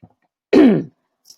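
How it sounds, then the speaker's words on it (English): One short, close throat clearing, a quick rough rasp that stops abruptly in otherwise near silence. "feel free to clear your throat too"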